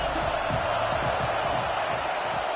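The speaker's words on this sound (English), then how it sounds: "This crowd trying to make life miserable for this offense." A loud, dense crowd roar fills a college football stadium during an Auburn versus Alabama game, continuous and unbroken from start to finish with no voices standing out.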